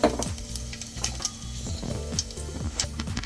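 Cumin seeds sizzle in hot oil in a pot, a steady close crackle overlaid with a low rhythmic mechanical hum and a few sharp ticks.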